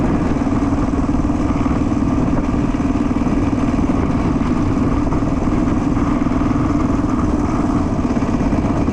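A rebuilt 1979 Honda XR500 single-cylinder motorcycle runs while being ridden, its engine making a loud, close, continuous thrum mixed with wind noise and no break.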